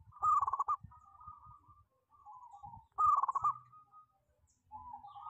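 A zebra dove (perkutut), its plumage still slightly damp after being wiped down with water, gives repeated cooing calls in two bursts about three seconds apart, close and fairly clear, with soft low rustling beneath and no talk.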